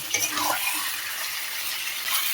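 Chicken being stir-fried with chili powder, garlic and ginger paste in a pan, a steady broadband sizzle with light scraping of a spatula, close and continuous.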